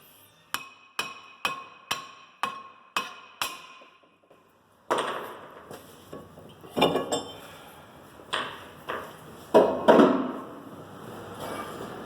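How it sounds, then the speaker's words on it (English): Seven sharp, evenly spaced metallic taps with ringing decay on the front brake rotor of a 2010 Mazda Tribute, then a pause followed by scraping and clunking as the loosened rusty rotor is worked off. "Give the rotor a few taps and take it off."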